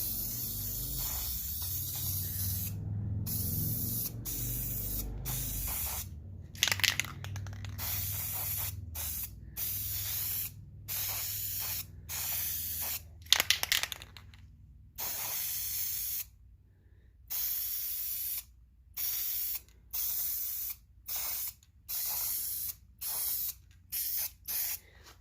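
Aerosol spray paint hisses onto railroad spike drawer pulls in short and long bursts, close and steady, separated by silent gaps, with a faint rattle of the can in between.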